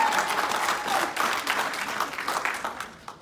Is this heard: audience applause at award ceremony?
yes